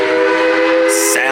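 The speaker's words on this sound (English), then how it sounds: "Sound of the train in the distance." A train at Dollywood theme park during its Smoky Mountain Christmas event sounds a sustained whistle with a steady tonal chord, carried over constant background rumble and crowd ambience.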